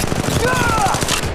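Rapid automatic gunfire rattles in Apex Legends Mobile, a fast run of close, loud shots in a steady stutter with a voice speaking over it.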